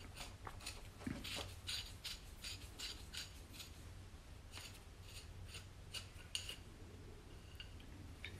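A threaded rod fitted with a nut is sawn through, producing a series of faint, close, scraping metal strokes in an irregular rhythm over a low background hum.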